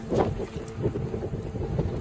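Strong gusting wind blows over a small boat on choppy water off Iceland, a steady loud roar with buffeting microphone rumble and no voices.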